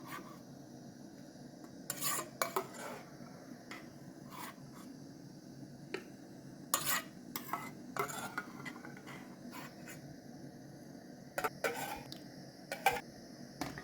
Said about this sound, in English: Once you add your rice, mix it once again.